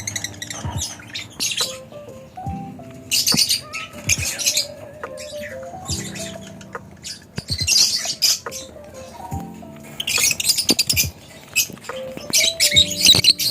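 A lutino opaline pet bird, a young hen, gives sharp chirps and squawks in quick irregular bursts, close and fairly loud, with brief quiet gaps between calls.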